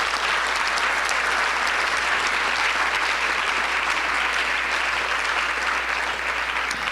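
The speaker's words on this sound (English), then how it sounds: "can we have a round of applause for donors?" Audience at a mayors' forum in Saint Paul applauds continuously, a full, steady wash of many hands clapping at even loudness throughout.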